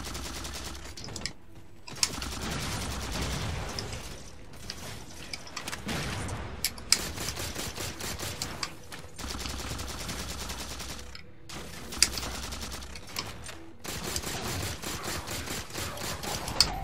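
Dense, sustained gunfire from the Halo 4 video game, with rapid automatic bursts and cracking shots stacked almost without pause, broken by a few brief gaps, loud and up front with no talking.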